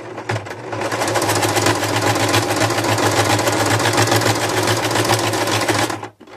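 A sewing machine stitches a seam with a backstitch, its motor running in a steady, fast, continuous whir up close for several seconds before stopping abruptly near the end, with no talking.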